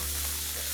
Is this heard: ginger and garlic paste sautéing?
yes